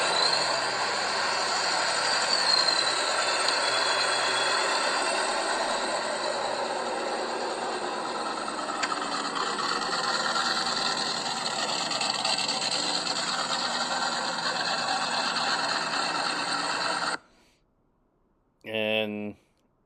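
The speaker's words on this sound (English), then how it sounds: "Sounds like it's got a good cam. Was told that it was a fully built motor, runs on both E85 and pump gas." A fully built car motor with a performance cam, set up to run on E85 and pump gas, gives a loud, steady, rough roar close by for about seventeen seconds before cutting off abruptly.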